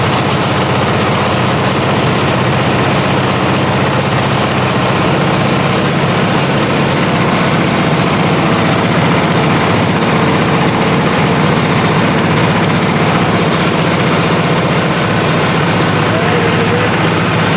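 A trawler boat's engine running, a loud continuous drone with steady mechanical buzz that holds evenly throughout, close by and without pauses.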